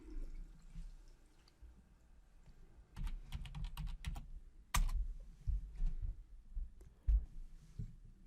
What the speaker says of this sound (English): from anywhere in the system I can type Video in the keyword field and select OK